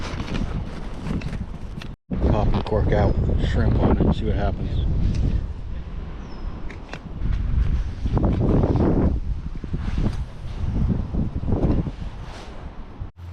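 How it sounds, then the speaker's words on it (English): Strong 18-20 mph wind buffets the microphone on a fishing bank, roaring in low gusts nearly the whole time beneath someone talking, with one brief drop-out. "Just too windy. It's 18-20 mile per hour winds"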